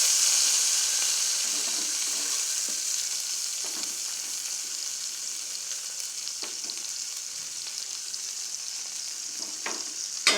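Onion, tomato, curry leaves and coriander leaves sauté in hot oil for a drumstick tamarind curry, giving a steady broad sizzle with a few faint scrapes of stirring throughout.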